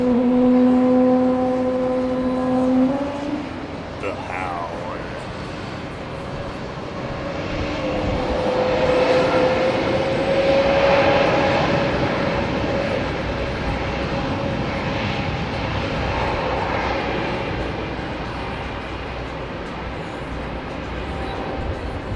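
An airliner departs Heathrow Airport at evening with its engines at takeoff thrust, a loud broad roar that rises and swells over about twenty seconds, with a whining tone sliding upward through the middle.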